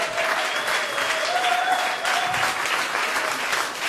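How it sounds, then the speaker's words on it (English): Sustained audience applause for spoken word performers at a live show, a broad even roar of many hands clapping throughout, with a faint steady tone running beneath it. "So this is your applause"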